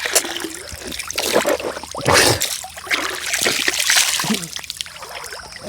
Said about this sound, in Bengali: পানির কলকল শব্দ আপনি অনুভব করতে পারবেন